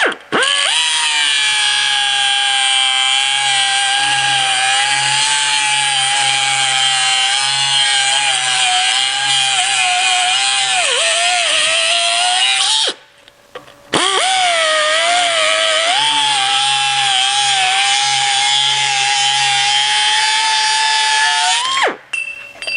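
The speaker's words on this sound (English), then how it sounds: "when using a tool like this, it's an air tool" A Chief 4-inch air cut-off tool slicing through metal, producing a loud, steady high-pitched whine with slight pitch wobbles, running continuously, briefly stopping, then resuming for another long cut before cutting out.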